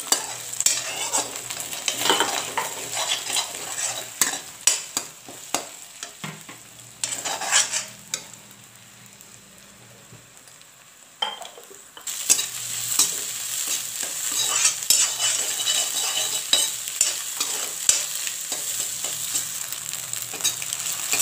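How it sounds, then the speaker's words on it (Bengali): Egg with turmeric powder fries in a wok with a loud, crackling sizzle, broken by repeated scraping strokes of a spatula, a brief quieter pause midway, then resumes hissing strongly. "আর একটু হলুদের গুঁড়ো দিয়ে ডিমটাকে ভালো করে ভেজে নিতে হবে কুরকুরে"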